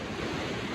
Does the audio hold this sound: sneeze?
no